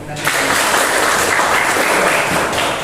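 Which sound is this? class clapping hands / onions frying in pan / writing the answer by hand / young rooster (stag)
class clapping hands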